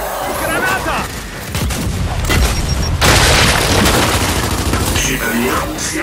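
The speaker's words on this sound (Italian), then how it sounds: "Granata!" A grenade blast in the Gears 5 campaign amid heavy gunfire, a loud boom and rumble over rapid shots, with a character's shouted voice in the mix.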